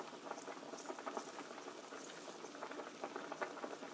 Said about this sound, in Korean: 소스가 끓기 시작하면 여기에 간을 해주세요